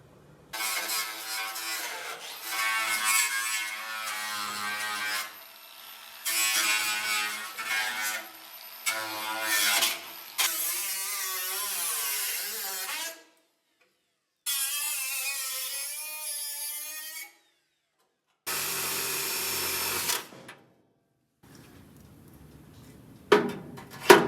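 A power tool grinds and cleans rusted metal edges on a 1965 VW Beetle's spare tire well ahead of welding, loud whining bursts of several seconds each separated by short silences.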